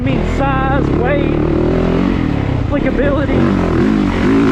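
A 2021 Yamaha YZ450FX dirt bike engine drones steadily while riding at Crow Canyon, its pitch wavering as throttle changes, mostly under someone talking close by.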